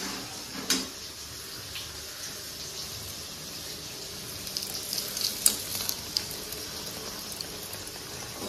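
Olive chutney with sugar and palm jaggery simmering in a pan, a faint steady sizzle with a few soft scraping stirs and light clicks, no talking.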